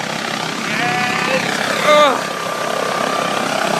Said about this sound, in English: Helicopter going up.